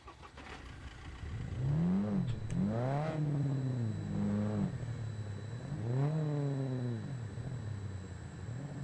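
A car engine in the video game SCUM revs up and down in repeated sweeping rises and falls, loud and close, with shifts between surges and no talking.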